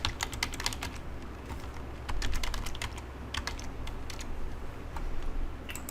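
Steady, quiet clatter of fingers typing on a computer keyboard, entering a company name into payroll software, with rapid bursts of keystrokes and brief pauses, close and alone without talk.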